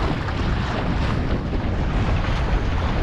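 A sailboat on a beam reach, double reefed with the jib furled, sails in strong wind. A loud, continuous roar of wind buffeting the microphone mixes with rushing water and covers everything else.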